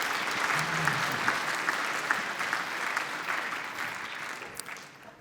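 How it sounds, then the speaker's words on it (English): Sustained audience applause at the European Athletics Golden Tracks Award ceremony honouring national winners, a dense, steady wash of clapping from a large hall crowd that gradually fades over about five seconds. "let's have a round of applause, please, for all of our national winners"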